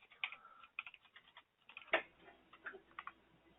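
Computer keyboard typing in a quiet room, a quick irregular run of light key clicks with short pauses and one sharper louder tap midway.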